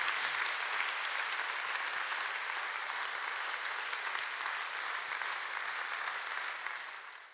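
Steady audience applause at a church service, a dense even wash of many hands clapping that holds for several seconds before tapering off at the end.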